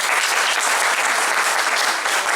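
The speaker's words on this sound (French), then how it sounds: "un petit applaudissement" Congregation in a church applauding, a steady, loud wash of clapping from many hands lasting a couple of seconds.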